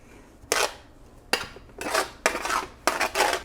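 Vegetables tipped into a pan with a series of four or five clattering, scraping bursts against quiet pauses, close and fairly loud.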